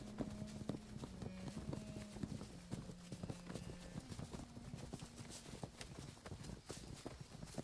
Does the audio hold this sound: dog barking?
no